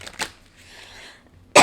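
Two sharp coughs from a person, a brief one near the start and a louder, harsher burst at the end, separated by a quiet stretch of faint room noise.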